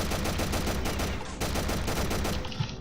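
Rapid gunfire from the video game Eisenfaust: Legacy rattles in dense, loud bursts, with a short pause near the middle.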